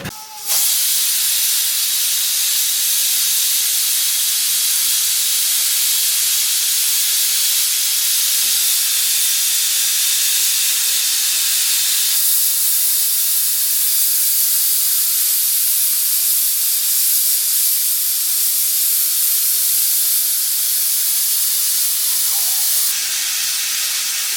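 A pressure cooker whistle releases steam in a loud, continuous high hiss, steady for the whole stretch with a small shift partway through; no speech.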